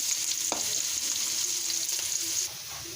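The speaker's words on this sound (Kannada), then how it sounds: "2 ಕಡೆ ಒಗ್ಗರಣೆ ಮಾಡ್ತಾಯಿದ್ದೀನಿ" Hot oil sizzles steadily with a bright crackle while a utensil stirs and scrapes the pan. The sizzle softens near the end.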